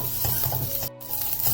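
Sliced green chillies sauté in an oiled pan, giving a steady close sizzle broken by one short gap and occasional soft stirring scrapes.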